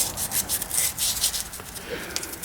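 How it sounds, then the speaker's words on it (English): Sandpaper rubbing back and forth over a pen tube before gluing it into a scalloped pen blank, a steady rhythmic scratchy rasp, close and moderately loud with no talk. "you want to rough up your tube with a little bit of sandpaper"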